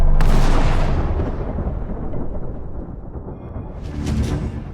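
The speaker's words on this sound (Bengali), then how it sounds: "আকাশে বজ্রপাত হয়" A loud thunder crack in a horror story: a heavy broadband boom that rolls and fades over a few seconds, then a second, softer rumble swells near the end. No voices.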